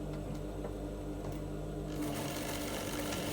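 Sewing machine stitching down a straight dart on a bustier, running in a steady, close, continuous whir that grows louder and busier partway through, with no talk over it.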